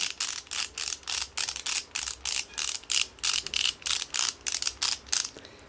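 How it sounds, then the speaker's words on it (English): A hand ratchet for an AX15 transmission swap on a Jeep ZJ spins with rapid, evenly spaced metallic clicks, about two to three per second, close and clear with no talk. "you can turn the handle either way and the ratchet will spin"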